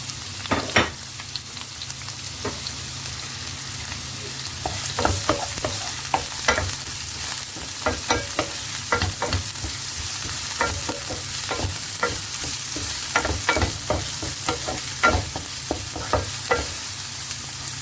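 Onion frying in a pan for a creamy tomato tuna pasta, a steady sizzle broken by scraping and knocking of a utensil as it is stirred, no talking.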